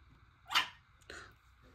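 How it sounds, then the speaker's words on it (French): A dog gives two short, fairly loud barks about half a second apart, indoors, with nothing else around them. "Vous avez entendu l'aboiement puissant?"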